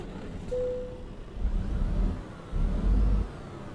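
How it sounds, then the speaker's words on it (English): Low diesel drone of a Freightliner Cascadia truck in American Truck Simulator, its Detroit diesel engine running under a sound mod, swelling in two louder surges with a brief tonal whine early on. "I do have a different Detroit diesel engine sound mod."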